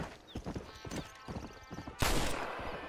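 Horse in the Red Dead Redemption video game galloping away after a hold-up attempt, with hoofbeats, game sounds and a brief sharp burst near the end under a steady ambient bed.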